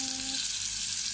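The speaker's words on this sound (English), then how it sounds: "Let's put into the hot oil and fry this fish fillet" A fish fillet fries in hot oil with a loud, bright sizzle that runs unbroken and close, with no voices.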